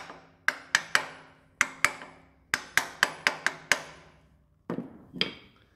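A hammer taps a gearbox adapter for a KPP1100-6 transmission into place, landing about eleven sharp metallic strikes in uneven clusters, close and loud, followed by a couple of duller scraping knocks.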